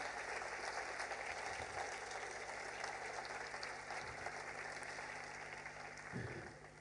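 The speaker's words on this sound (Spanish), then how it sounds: "Aplauda al Señor fuerte" A church congregation claps together in a steady, faint wash of applause that continues without a break, with a few low thumps here and there.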